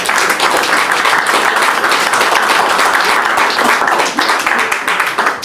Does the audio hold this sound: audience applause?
yes